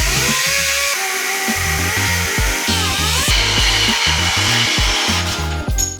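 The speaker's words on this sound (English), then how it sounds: "I just got my rough cut done here for our CV clearance here" A power tool rough-cuts a Toyota Tacoma truck frame for CV axle clearance during a long-travel suspension build, a loud continuous whining grind with rapid pulsing and shifting pitch, close and steady for the whole stretch without speech.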